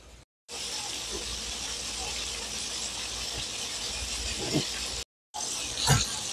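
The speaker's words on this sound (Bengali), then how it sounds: "এখন আবার আরেক ব্যাচ ভাজতে দিয়ে দিয়েছি, এটাও আমি গোল্ডেন ব্রাউন করে ভেজে নিব।" Shrimp frying in hot oil, golden-browning in a batch, giving a steady loud sizzling hiss with a couple of brief cuts and a few small pops and clatters near the end.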